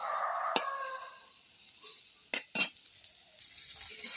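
A spoon scrapes and clinks against a pan while homemade ghee is stirred, a few sharp metallic knocks over a soft background hiss, close by and with no talking.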